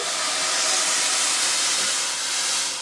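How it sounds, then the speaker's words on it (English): Stock pours steadily into a pot of miso soup, making a continuous broad hissing splash that stays even for a few seconds. "Now the stock goes in"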